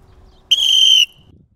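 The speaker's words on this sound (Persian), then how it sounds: "حالا با سوت من همه برپا." A single shrill whistle blast, blown as a command to stand up at a military barracks, rings clear and steady for about half a second against near silence.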